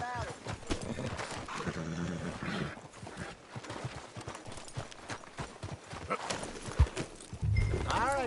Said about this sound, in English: Damn near trampled a child with their horses.